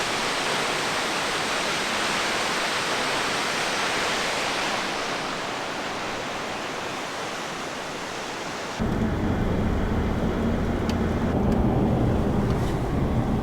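Bear Creek Falls roars beside the Million Dollar Highway in Colorado in autumn, a loud, steady rushing wash of falling water that carries on without pause, shifting partway through to a heavier, deeper rumble.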